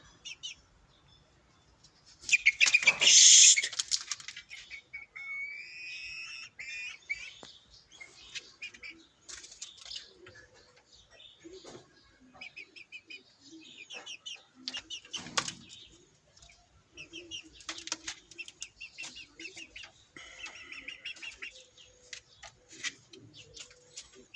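A sudden burst of loud wing flapping from a rooster, then scattered bird chirps, clucks and rustling movements continue intermittently at close range.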